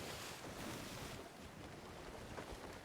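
Wind and breaking waves rush steadily around a sailing ship on the open sea in the pirate game Sea of Thieves, a dense, continuous wash of surf and gusting air with no voices.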